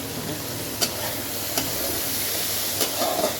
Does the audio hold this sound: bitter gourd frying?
yes